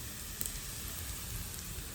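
Onions sizzling in leftover oil in a pan while making chicken fried rice, a steady, even crackle and hiss with no talk.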